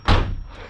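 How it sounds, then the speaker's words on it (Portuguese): A single loud car door slam on a VW Saveiro, fresh door rubber seal fitted, a sharp close thud followed by a short fading rattle. "agora tem que fechar valendo a porta"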